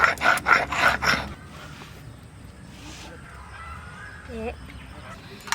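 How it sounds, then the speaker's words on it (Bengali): Dried red chillies with ginger and garlic are ground into paste on a grinding stone for a Golbari-style kosha mutton curry. Loud rhythmic scraping strokes come close up for a moment, then fade to quiet background with a voice speaking. "শুকনো লঙ্কা বেটে নিচ্ছি।"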